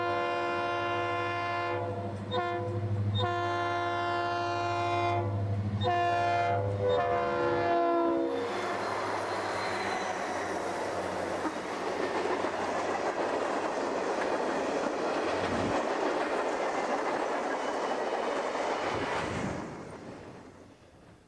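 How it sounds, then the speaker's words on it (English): Northbound Union Pacific freight train passing over a railroad diamond crossing near a siding: loud, sustained horn blasts in several bursts, then a roaring, rumbling passage of cars with clattering wheels fading out at the end. "another northbound UP train heads over the BN Diamond"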